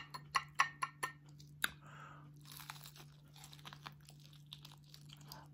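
Several sharp, crisp crunches close up as battered fried chicken wings are bitten, followed by quieter chewing crackles over a faint steady hum.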